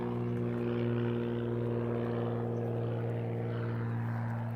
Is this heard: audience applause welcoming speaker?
no